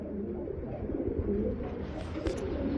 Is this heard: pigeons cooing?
yes